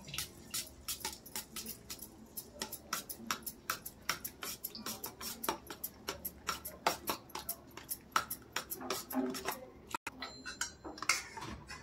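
A spoon stirs red chilli flakes into a mixture for andya cha pola, an egg recipe, clinking against the bowl in a steady, rapid rhythm of close, bright taps.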